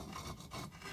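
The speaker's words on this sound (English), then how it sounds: "I'm using a piece of concrete to smooth out the edges of my frog" A piece of concrete rubs and rasps against the edge of a cast concrete frog figure, giving a short, close, gritty scraping stroke that is steady and alone, with no voice.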